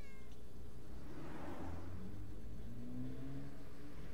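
A cat in the adventure game Randal's Monday gives a drawn-out, faint meow with a rising, wavering cry over a low, steady background hum and whir.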